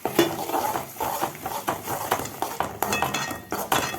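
Spoon stirring sliced radish with a cracked egg and salt in a hot pan, giving repeated scraping and clinking strokes over a soft sizzle, close and steady with no voices.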